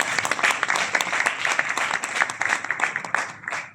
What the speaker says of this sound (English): A big round of applause for Jtly, ladies and gentlemen.